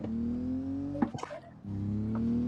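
A car engine revving hard as it is floored, with a rising whiny tone, a brief rough burst midway and then a strong steady climb; close and loud, heard through a game stream.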